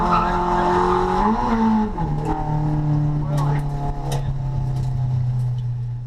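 A car drifts on a race track during a track day, its engine note holding steady while tires squeal and scrub through a corner, loud and close with occasional sharper chirps.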